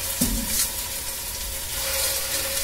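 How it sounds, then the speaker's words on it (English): Meatballs hit hot oil with a steady crackling sizzle, close up and continuous, with a brief clink near the start. "now we're just going to get our meatballs in there, and you want to hear that sizzle"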